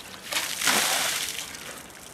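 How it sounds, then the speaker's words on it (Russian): Cold shower water pours and splashes in a steady rush for about two seconds during a contrast shower, close by with no talking. "А теперь холодной водой."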